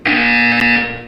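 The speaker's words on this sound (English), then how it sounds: "You will hear a buzzer." A loud, steady electronic buzzer tone sounds once in the video game Portal 2, holding for about a second before fading slightly, with no talk over it.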